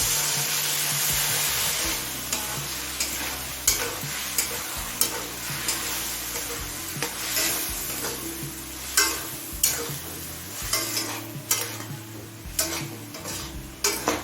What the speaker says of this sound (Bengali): জল দিয়ে সব মশলা মিশিয়ে নিলাম